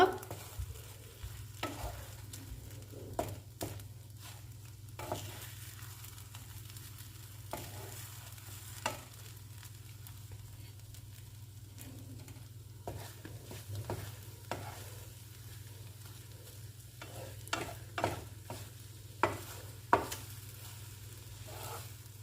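Butter garlic egg cooks gently in a pan over a low flame, a faint soft sizzle under a low steady hum, punctuated by repeated scrapes and taps of stirring.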